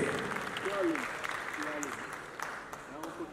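Audience applause at a film festival award ceremony in a Dakar theatre, a broad wash of clapping heard under ongoing voices and a loudspeaker, moderately loud and sustained throughout.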